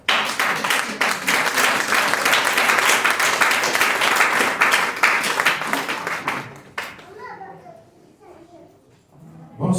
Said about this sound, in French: Faut applaudir encore.